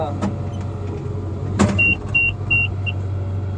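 An older truck driving on a road at about 40 miles an hour, a steady low engine and road rumble from inside the cab, with a thump and a few short electronic beeps partway through.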